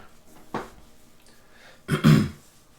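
A person with a cold coughs, giving a short faint cough followed by a stronger, throaty cough, close to the listener.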